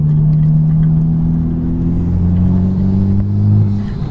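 A Honda Civic Type R engine rumbles loudly and close, its pitch rising and falling as it revs, with no talking.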